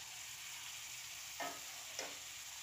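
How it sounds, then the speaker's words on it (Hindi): Cabbage and capsicum frying in a pan make a quiet, steady sizzle, with two brief louder bursts as more vegetables drop in. "अब मैं इसमें डालूंगी शिमला मिर्च"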